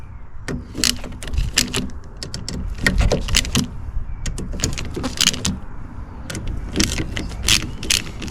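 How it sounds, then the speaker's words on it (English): A tool works the T20 bolts on the fuel filter of a 2010 Audi A3 8P 1.6 TDI, giving a string of close, sharp metallic clicks and rattles in irregular bursts. "You need to undo these T20"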